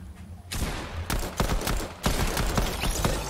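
Pistol gunfire in the Call of Duty video game, a rapid volley of sharp shots in two bursts with short pauses, fairly loud and steady over a low background rumble, no talking.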